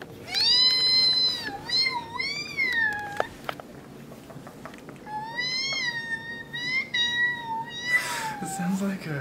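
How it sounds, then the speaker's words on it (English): A cat meows repeatedly in drawn-out, rising and falling cries, close and loud, with a few sharp clicks and background noise between calls. "It sounds like a cat."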